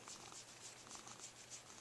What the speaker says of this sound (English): Oh, he's still purring.